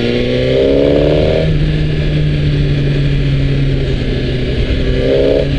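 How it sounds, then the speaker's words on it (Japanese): A 2019 Suzuki GSX-R1000R sport bike engine revs loudly as the throttle opens, rising in pitch, easing back, then climbing again near the end; the steady, close roar fills the whole stretch with no voices. "アクセル開けた時の音がすごいです。"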